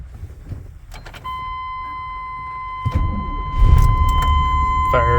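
A 1998 Chevrolet K1500 pickup truck engine cranks and fires up after a PCM swap, settling into a steady, close rumbling idle, with a warning chime ringing throughout.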